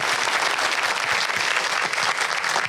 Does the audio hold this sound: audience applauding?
yes